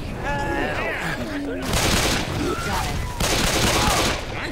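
Gunfire in the zombie shooter video game Left 4 Dead 2, with rapid bursts of shots and loud chaotic game effects alongside voices and character chatter throughout.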